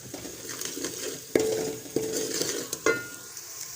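Onions frying with spices in a pan, a steady sizzle with three sharp scrapes and clinks of a spoon stirring against the metal, close and alone without voices.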